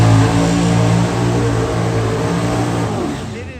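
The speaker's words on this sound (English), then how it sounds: "And here comes one of my favorite, I gotta say, one of my favorite pro stocks. Dwayne Rice's Camaro." Dwayne Rice's Camaro pro stock drag car at an IHRA Pro Mod Nationals qualifying session roars loudly and close, a dense engine drone that slowly fades as it passes.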